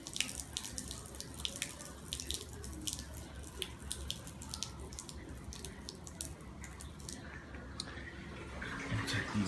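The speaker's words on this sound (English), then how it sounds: "I'm gonna dump the majority of this water." Water is poured out of a bag or container holding newly arrived clownfish, splashing and trickling steadily at close range with small drips and sloshes throughout.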